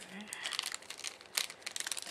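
A plastic bag crinkles and rustles in quick, close bursts while sorting planner supplies on a table, with some soft speech-like sounds mixed in.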